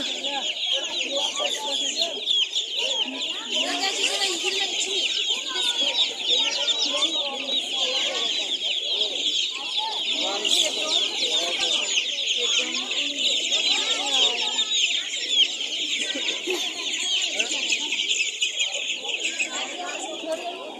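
Dense, continuous clucking from many chickens, close and loud, with a few sharper squawks and people talking underneath throughout.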